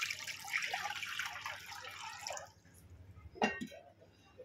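Water poured over salted mango pieces for pickle, a few seconds of close splashing flow, then a short drip and clatter after it stops, with faint background noise.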